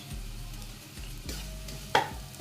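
Washed dried chilies frying in a pan give a soft steady sizzle, broken by a few scraping stirs and one sharp clack of a utensil near the end, close by and with no voices.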